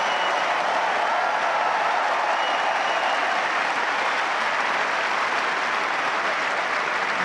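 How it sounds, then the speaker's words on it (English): Applause and cheering from the crowd at a Wimbledon tennis match between Katie Boulter and Harriet Dart fill the air in a steady, dense roar of many hands clapping that holds loud and unbroken for the whole stretch. "Every decibel of that cheer earned by Harriet Dart."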